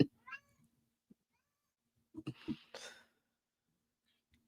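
A chatty cat meows a few times, first a short call near the start, then a longer, louder run of meows later on, heard close up in a quiet room with no talking.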